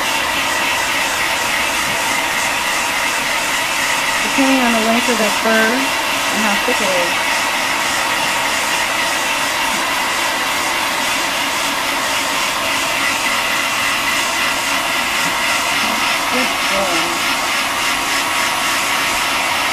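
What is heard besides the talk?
handheld blow dryer drying a Persian kitten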